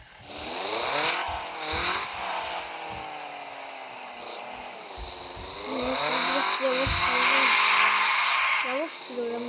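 A car driven hard with its engine revving and rising in pitch, tires squealing on the corners, loud and close throughout while a voice talks over it.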